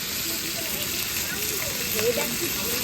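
Bata fish frying in oil, a steady, even sizzling hiss that fills the whole moment at moderate loudness, with someone talking over it.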